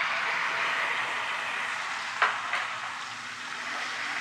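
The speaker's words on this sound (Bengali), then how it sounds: "এবার এই তেলেতে আমি যে মশলাটা পেস্ট করেছিলাম ভেজে," Fried spice paste hitting hot oil for a prawn and jackfruit dish sizzles steadily, with one sharp clink of a utensil midway and a softer tap after it.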